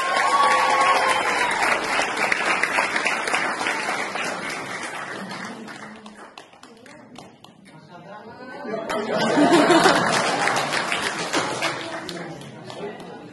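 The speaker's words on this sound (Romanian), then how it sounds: "mai aplaudați încă o dată" A theatre audience at a prison troupe's performance in Arad claps in bursts of hearty applause, with a quieter lull in between, chatter and voices mixed in, and some laughter.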